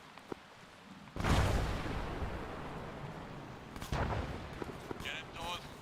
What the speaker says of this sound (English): We're taking incoming artillery fire